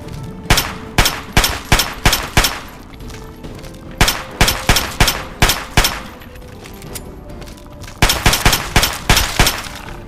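Rapid bursts of pistol fire in Fallout 3 crack out in three clusters of loud, sharp shots, each volley several quick reports in succession separated by brief pauses.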